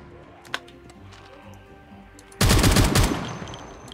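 Full-auto gunfire in Project Zomboid: a loud, sudden burst of rapid shots erupts midway and rattles on for over a second before trailing off, following a quieter stretch with a single faint click.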